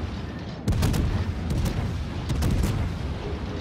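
Naval gunfire in the video game World of Warships, heavy booming salvos: one big blast, then several more shots spread across a few seconds, loud over a steady rumbling background.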